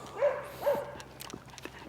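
A leash-reactive dog out on a walk gives two quick, faint barks a short way off, followed by softer scuffling outdoor noise.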